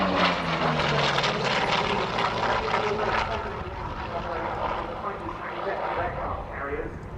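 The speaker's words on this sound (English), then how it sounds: "You see very clearly as the aircraft flies past." An F4U-4 Corsair propeller fighter passes at an air show, its engine drone loud at first, then falling in pitch and fading as it goes by, with a voice talking over it.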